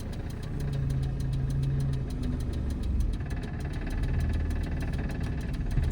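A car engine idles and revs lightly while a learner driver practises a U-turn, a steady low rumble with slight rises and falls in pitch, close and continuous throughout.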